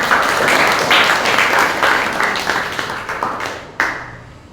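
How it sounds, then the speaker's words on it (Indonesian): A group in a Christian religious education class applauds together, a steady wash of many hands clapping at close range that holds for several seconds before thinning out at the end. "Tepuk tangan untuk kelompok."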